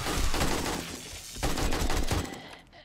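AK rifle fire in the zombie survival game 7 Days to Die: loud, dense bursts of rapid automatic shots close up, with a short break in the middle, and no talk.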